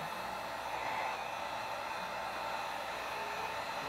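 A hot air blower runs steadily over fluid art paint in a flip cup pour, a constant whooshing hiss of moderate loudness heard alone.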